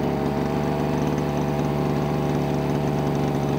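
Lawn mower engine idles nearby with a steady, even chugging drone that stays level throughout, and no voices over it.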